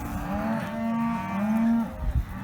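Cattle low in several long, drawn-out moos from nearby on a ranch with horses, one call following another, then a brief thump or shuffle at the end.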